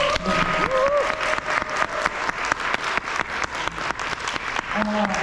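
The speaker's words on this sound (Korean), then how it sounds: "우리 한번 박수 한번 칠까요?" Seminar audience at a Korean business success seminar in a banquet hall applauds steadily, dense clapping sustained throughout, with faint voices and a brief tonal sound mixed in.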